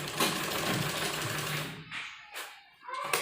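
A sewing machine runs in a fast, dense whir while stitching a seam on gents' underwear, then stops abruptly partway through, leaving a few short, faint bursts of handling noise.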